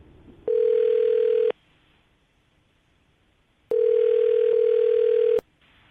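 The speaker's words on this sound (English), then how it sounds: "I'm going to dial the phone number" A phone line's steady tone sounds in two long, loud, even bursts of about a second and nearly two seconds, separated by a quiet gap, with a click at each edge and no voices.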